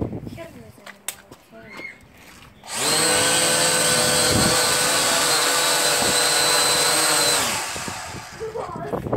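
A ZYMA X8 quadcopter drives a loud, steady whirring blast of air from about 2.7 to 7.5 seconds while fanning a barbecue fire. Quieter ambient sound comes before and after it.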